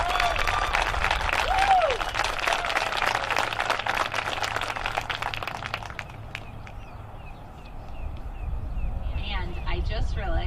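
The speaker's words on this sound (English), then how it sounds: "Another round of applause for our citizens." Audience applause at a school moving-up ceremony, a steady wash of clapping from a large crowd that fades out after about six seconds, followed by scattered cheers and a voice near the end.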